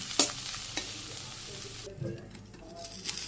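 Mola greens with salt being stir-fried in a pan, a soft sizzle under scraping and stirring with a few sharp utensil clinks, close and fairly quiet.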